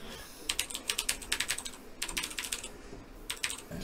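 Rapid bursts of computer keyboard typing during a session of The Typing of the Dead, clattering keystrokes in quick clusters with brief pauses between, close and fairly clear with no talk.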